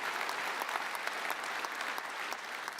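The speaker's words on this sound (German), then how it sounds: "Da kann man mal klatschen." Sustained applause from a large audience at the FC Bayern Munich annual general meeting in a hall, dense crisp clapping that holds steady throughout with no break.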